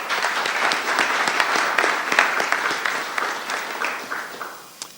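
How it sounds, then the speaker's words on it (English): A crowd at a Grand Rapids professional soccer team announcement gives a round of applause for Amway's president and CEO, dense steady clapping that gradually tapers and fades near the end. "Let's have a round of applause for Michael Nelson, Amway President and CEO, who is with us today."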